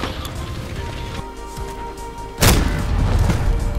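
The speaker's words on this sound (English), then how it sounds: "Because that's gotta be an SPR. Sounded like one." A single loud, sharp shot from an SPR sniper rifle in Call of Duty Modern Warfare, cracking out abruptly midway through over a steady game background and leaving a sustained noisy tail.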